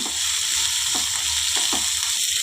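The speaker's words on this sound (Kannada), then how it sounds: "ಗೋರಿಕಾಯಿ ಹಾಕ್ಕೊಂಬಿಡ್ತೀನಿ ಚೆನ್ನಾಗಿ ಮಿಕ್ಸ್ ಮಾಡ್ಕೊಳ್ಳೋಣ" Cluster beans being stirred into frying onion in a hot pan, a steady loud sizzle with a few soft scraping strokes of the spoon, no voices.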